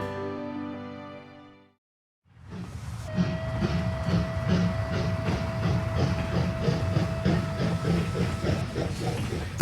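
A steam locomotive in Esquel, Argentina, at dawn: after a short lull it bursts into a loud, steady rumbling roar with rhythmic chuffing, heavy steam hiss and a sustained whistle-like tone running throughout.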